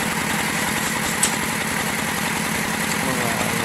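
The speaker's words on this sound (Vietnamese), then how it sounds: "máy nổ này đâu ngủ được đâu" A motor runs loudly and steadily in a village, with a constant chugging drone and no pause.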